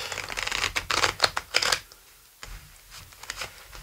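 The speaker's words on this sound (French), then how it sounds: "Donc on va faire une coupe et un tirage en 9." Oracle cards are cut and dealt, a quick burst of close riffling and flicking snaps followed by a few softer card taps, with no voices present.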